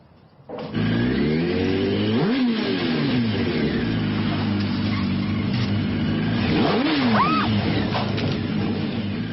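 A motorcycle engine starts abruptly and runs loudly, with two rising-and-falling revs as it roars close by.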